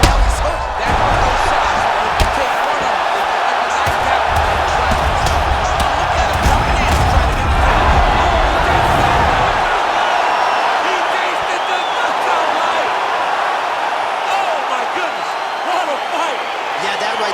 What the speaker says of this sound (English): Crowd absolutely loving it.